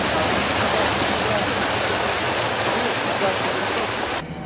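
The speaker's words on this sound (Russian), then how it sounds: "жители восстановили такую водную протоку к разрезу, и он вновь стал наполняться водой" Water flows through a channel that residents restored into a quarry pit near the settlement of Flyusovoy by Miass. The dense rushing sound is loud and constant and cuts off abruptly just before the end.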